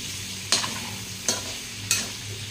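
Adobo sizzles and fries steadily in a pan with a dense, continuous hiss, broken by three evenly spaced scraping stirs close to the listener.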